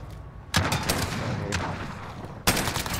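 Gunfire in the video game Modern Warfare, a dense stretch of rapid shots with sharp loud bursts at the start and near the end, continuous and close.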